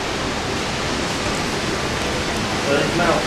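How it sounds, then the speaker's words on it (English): A waterfall on a Disneyland Paris ride produces a steady, broadband rush of falling water that holds evenly throughout, with no clear talk over it. "The waterfall is going like that."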